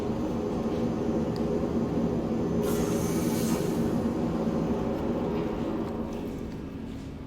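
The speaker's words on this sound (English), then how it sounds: "Tram now approaching. And here's our ride." A video game tram in Star Citizen rumbles steadily into a station, its low drone holding for several seconds with a brief hiss midway before it slowly fades.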